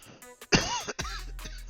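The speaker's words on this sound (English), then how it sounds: "Sorry for the cough." A single harsh cough bursts out close by, followed by a short throat-clearing rasp, with quiet breathing around it.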